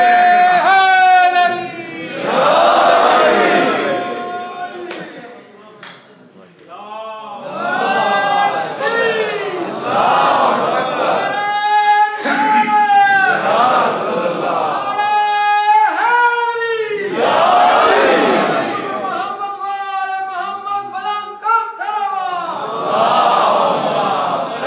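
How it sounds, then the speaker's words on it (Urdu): A majlis congregation at Cheetham Hill, Manchester, chants religious slogans in repeated loud surges. Each wave of massed voices alternates with a single voice leading between them, in a steady call-and-response rhythm. "اب ان کے لیے تھوڑے سے نعرے لگانے شروع کر دیجیے"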